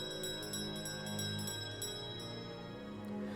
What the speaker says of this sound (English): The sound of the bell has an effect on the freshman akin to a revive spell